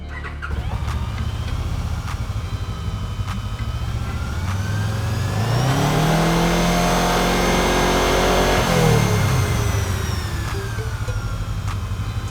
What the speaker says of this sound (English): we're going to rev it up and hear the fan accelerate